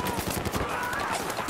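Rapid automatic gunfire in a Battlefield 4 multiplayer match crackles in a dense, continuous burst, with a player talking over it.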